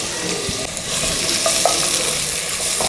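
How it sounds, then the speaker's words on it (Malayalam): Sliced onions frying in oil and ghee in a pot for Malabar-style chicken dum biryani, giving a loud close sizzle with stirring scrapes throughout, no talking. "സവാള ഇട്ടിട്ടുണ്ട്. ഇത് ജസ്റ്റ് ഒന്ന് വഴണ്ട് വരണം."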